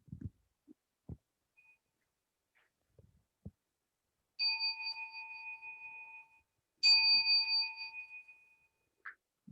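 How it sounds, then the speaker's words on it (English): Two ringing bowl-like bell strikes sound in a quiet meditation hall at a Zen center, each ringing out and fading slowly before closing Dharma verses, preceded by a few soft scattered knocks and shuffles. "we'll do our closing Dharma verses"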